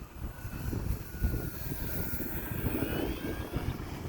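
An E-flite T-28 1.2m RC model airplane flying between rain storms drones steadily overhead as its electric motor runs up under added throttle, a continuous moderate whine and rumble that swells slightly without pause.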